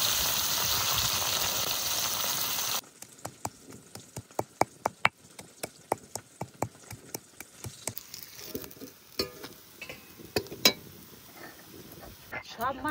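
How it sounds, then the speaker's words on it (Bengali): Silver carp pieces frying in hot oil, first a dense steady sizzle, then sharp, loud pops and spits bursting irregularly from the pan, close up with no talking. "মাছের যে তেল রয়েছে, মাছ ভাজছি তো তেলগুলো পটপট করে ফুটছে।"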